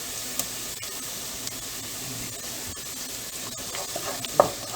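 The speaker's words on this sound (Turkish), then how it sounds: "salçamı da kokusu çıkana kadar kavuracağım" Tomato paste frying in a pan for a green bean dish, a steady hissing sizzle throughout with faint stirring clicks and one small louder knock near the end.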